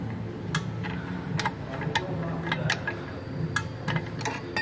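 On a Gran Max, a brake adjuster gear is turned by hand, giving sharp, irregular ticks and clicks one after another over a low background hum, close up with no talking.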